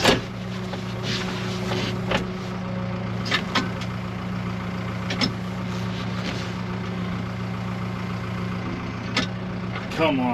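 A truck engine labors in a snowstorm with below-zero cold, a steady low drone holding throughout with occasional sharp clanks and knocks on top.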